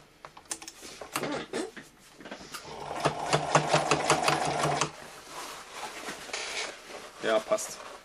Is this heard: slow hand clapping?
no